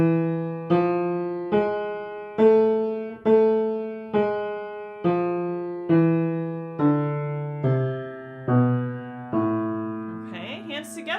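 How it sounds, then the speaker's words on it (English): A piano plays an A harmonic minor scale with the left hand, starting on low A, as a slow sequence of about a dozen distinct notes at an even pace, each ringing and decaying before the next. "Let's play the A harmonic minor scale in the left hand now."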